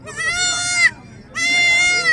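Young goat kids bleat at a Sunday livestock market in Perundurai, two loud, long, wavering cries split by a short pause, close by with a low crowd murmur underneath.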